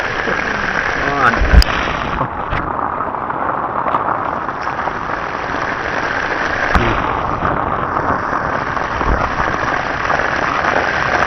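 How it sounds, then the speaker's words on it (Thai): Steady rain falls during a fishing trip in Thailand, a dense continuous hiss with a few sharp knocks and thumps on top, heard without any clear talk. "ฝนตก"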